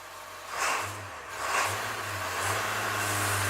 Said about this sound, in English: It actually sounds like the engine is more lubricated right now.